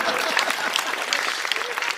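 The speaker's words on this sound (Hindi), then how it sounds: "बजाओ ताली इस बात पर" Audience applause at a Hindi comic poetry gathering (hasya kavi sammelan), dense steady clapping from a crowd filling the whole moment, loud and close with some voices mixed in.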